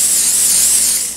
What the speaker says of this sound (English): I'll put my wire rack inside the baking sheet and then we're going to spray that.